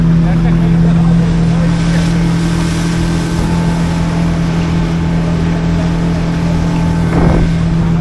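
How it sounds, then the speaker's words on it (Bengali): A speedboat moves across the water off Baratang Island, its motor a steady loud hum under rushing water and wind buffeting the microphone, close and continuous throughout. "অসাধারণ অভিজ্ঞতা এই স্পিড বোটের মাঝখানে।"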